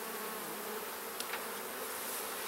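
Honeybees in a backyard hive being inspected, a steady dense buzz from many bees filling the air up close, with no talking.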